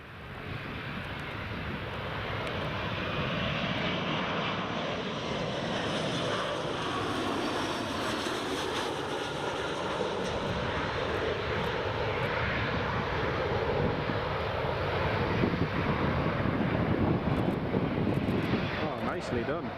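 An Embraer 170 airliner lands at Newcastle Airport in a crosswind, its jet engine roar loud, steady and broadband throughout, swelling slightly toward the end, with wind buffeting the microphone and a voice speaking faintly underneath.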